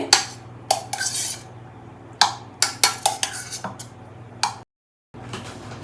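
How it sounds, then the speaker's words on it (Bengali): Sweet potato pantua, a Bengali sweet, being served into a bowl with a utensil: a close series of sharp metallic clinks and taps against the dish, irregular and crisp, with one short silent gap. "এরপরে আমি পরিবেশন করার জন্য তুলে নেব একটা বাটিতে"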